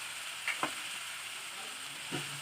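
Onions with a little salt frying in a pan give a steady bright sizzle throughout, broken by a few short scraping stirs of a utensil.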